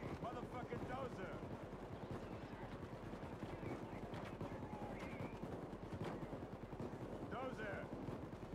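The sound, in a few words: gunfire in the Payday 2 video game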